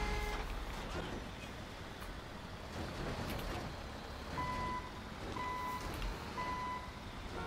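Reversing beeps from a backhoe in the GTA 5 video game, a steady run of evenly spaced tonal beeps sounding in the second half over dense, noisy vehicle and traffic rumble.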